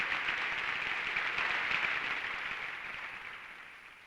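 Applause in a hall during a US presidential visit speech, a broad, dense clapping from a large audience that slowly fades in level toward the end.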